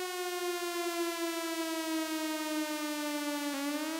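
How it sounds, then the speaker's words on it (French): A civil defense warning siren wails steadily, holding one pitch with rich harmonics, loud and continuous, then dips slightly near the end. "Dès que vous entendez la sirène d'alerte,"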